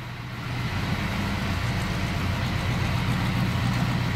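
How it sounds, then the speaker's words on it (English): A 1940 Buick Super Convertible engine idles steadily and smoothly up close, a low even rumble with no voices, starting slightly softer then holding constant. "Very smooth running Buick."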